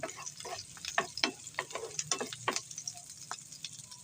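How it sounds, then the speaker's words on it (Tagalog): Garlic and onion sauté in a pan for Filipino beef bopis, a soft steady sizzle broken by repeated scraping and stirring clicks from a utensil, fairly close and moderately quiet. "gisa lang natin yung bawang at sibuyas natin"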